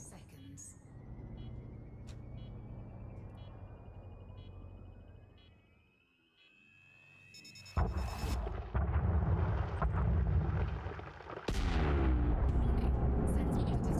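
Asteroid detonation in Elite Dangerous mining: a rising electronic charge tone fades into a brief hush, then deep roaring blasts and rumbling debris burst in loudly, with a second heavy explosion following, while a voice talks throughout.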